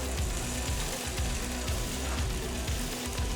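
Cut pieces of Spam sizzle steadily in a dry Teflon frying pan, a continuous crackling fry with faint stirring and no talking.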